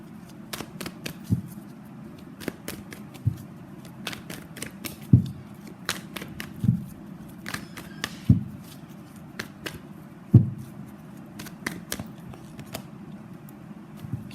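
Tarot cards are shuffled to draw clarifier cards, giving repeated crisp riffling and slapping bursts with sharper snaps at intervals over a low steady hum.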